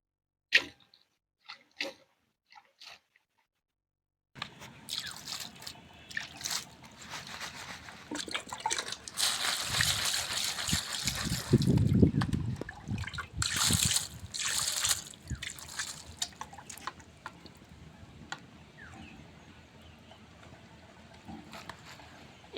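Dried jujube fruits being washed by hand in water, a few sparse drips and taps, then close sloshing, splashing and trickling that swells midway before settling into light drips.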